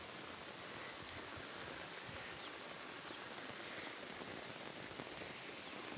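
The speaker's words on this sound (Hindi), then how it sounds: "अब बारिश हो रही है" Steady heavy rain pours outdoors, a dense continuous hiss of drops hitting the ground and umbrellas, with no voices and no letup.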